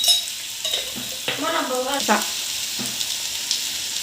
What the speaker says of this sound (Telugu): అన్నీ వేసుకొని ఇలా కలిపేసుకొని